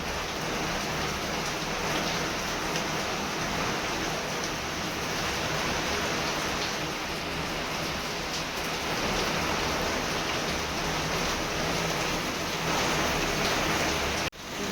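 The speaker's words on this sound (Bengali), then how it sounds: "এত জোর ঝড় বৃষ্টি হচ্ছে বাইরে।" Heavy rain and a storm pour down outside in a dense, unbroken hiss of falling water that holds steady and fairly loud throughout, with no talking.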